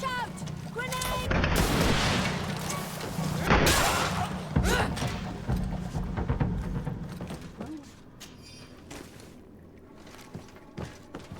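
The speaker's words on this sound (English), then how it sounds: "Watch out! Grenade!" Grenade explosion in a video game, two heavy booming blasts with sharp onsets amid gunfire-like bangs and clatter, followed by quieter scattered thuds and impacts.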